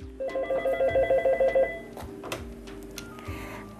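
A telephone ringing in a hospital oncology-dermatology office, a rapid electronic trill of about ten even pulses that stops abruptly, followed by a faint click and quiet handling sounds as the call is picked up.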